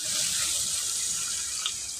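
Water is poured into a cooking pan of fried, spiced paneer or chicken, giving a close, steady, hissing splash throughout.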